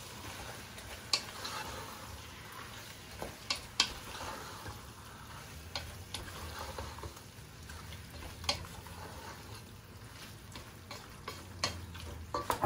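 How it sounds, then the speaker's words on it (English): A spoon stirs Portuguese dobrada, a cow-stomach stew with chorizo, in a pot. Soft, quiet scraping and clicking taps come at an irregular pace over a low, steady simmer. "Mix it up."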